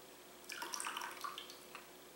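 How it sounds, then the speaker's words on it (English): Water trickles and splashes out of a My Joe single cup coffee maker, a soft, short burst of pouring and dripping in a quiet room with a faint hum behind it. "most all the water does come out of here."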